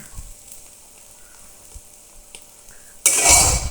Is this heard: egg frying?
yes